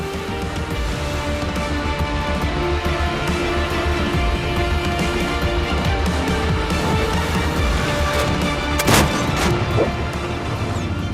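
Tank cannon fire in the World of Tanks video game, a steady dense rumble of overlapping shots with one sharper, louder blast near the end, no talk.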